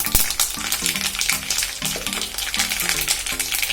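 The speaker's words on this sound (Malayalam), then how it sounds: "നമുക്ക് പുളിഞ്ചി ഒന്ന് കടുക് പൊട്ടിച്ച് ശരിയാക്കി വെക്കാം." Mustard seeds spluttering in hot oil for a Kerala pulinji, a dense crackle of small pops over a steady sizzle, close and loud, with no talking.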